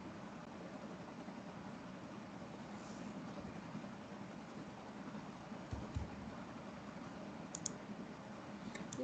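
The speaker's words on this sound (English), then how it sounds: "Who is typing or something here?" Faint, irregular keyboard clicks sound over a steady background hiss during an online grade 5 mathematics lesson, scattered taps with a brief cluster near the end.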